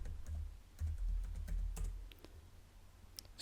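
Keys clatter on a computer keyboard as an adb command is typed into a terminal, a close, quick run of uneven clicks with brief pauses between bursts, no voices.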